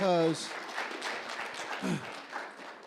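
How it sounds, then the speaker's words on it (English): Audience applause at a public talk, a broad wash of clapping that continues steadily after a brief voice at the start, moderately loud and filling the room. "So if everybody could just give them a round of applause for all the work that they've done."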